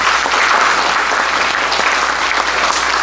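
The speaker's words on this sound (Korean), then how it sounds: "오늘 발제해 주시고 토론해 주신 이 네 분께 뜨거운 박수 부탁드립니다" Dense, steady applause from the audience fills the hall at the close of an academic conference, sustained clapping from many hands at a constant loudness, with no voices rising above it.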